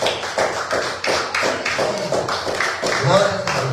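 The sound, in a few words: church congregation clapping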